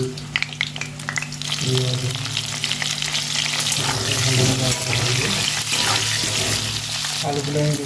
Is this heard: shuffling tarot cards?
no